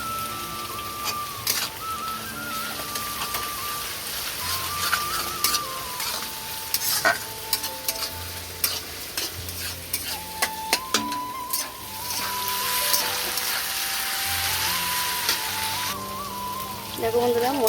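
Ginger-garlic paste frying with browned onions in a pan for chicken chow mein. A steady, rain-like sizzle continues throughout, broken by repeated sharp clinks of a stirring spoon.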